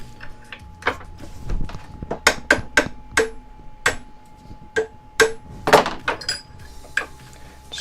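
Metal silverware being hammered over a peg, with close, sharp ringing blows struck in an uneven rhythm, roughly fifteen strikes with short pauses between them.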